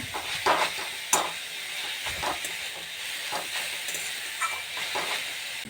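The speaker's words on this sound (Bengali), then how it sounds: "এরকম করে ভেজে নেবো আরও একটু ভাজতে হবে" A vegetable chop mixture frying in a pan gives a steady soft sizzle and hiss, broken by occasional scraping stirs, fairly close and moderately quiet.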